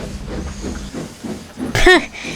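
A steam locomotive puffs through snow with a soft rhythmic chuff and hiss, moderately loud, followed by a brief sharp burst of hissing steam with a short whistle-like squeal.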